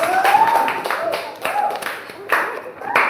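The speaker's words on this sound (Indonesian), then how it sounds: "Tepuk tangan." Children in a fourth-grade elementary school class clap their hands in uneven bursts, mixed with voices speaking and calling out over the clapping.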